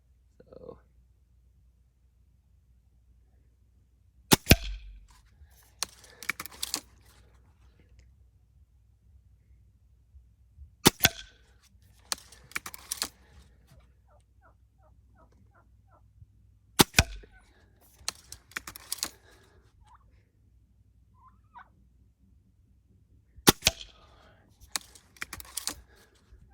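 A Gamo Swarm Magnum .22 air rifle fires four sharp, loud cracks spaced several seconds apart outdoors. Clicks and mechanical rattles of cocking and reloading follow each shot, with quiet stretches between.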